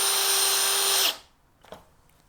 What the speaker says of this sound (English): Let's try drywall screws on clutch setting 3 here